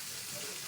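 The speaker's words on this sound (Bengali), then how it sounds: "এটা একটু ভাজবো।" Whole cumin seeds frying in hot oil in a pan give a steady, soft, close sizzle with fine crackle throughout, with no talk over it.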